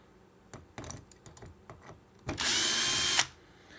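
Power drill backing out bolts on an aftermarket LED fog light of an SRT4, a short burst of whirring after several clicks and handling knocks, close and alone.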